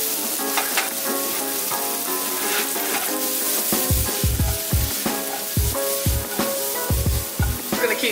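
Jalapenos, red peppers and mushrooms sizzle steadily in a hot pan, a continuous close frying crackle with occasional louder spatters and stirring, no voices.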